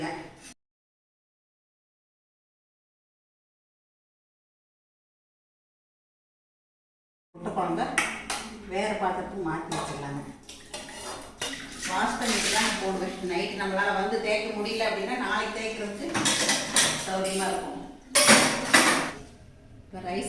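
Dishes and plates being scrubbed and washed by hand, with clinking of steel vessels and scraping strokes, close and fairly loud under someone talking, after several seconds of silence.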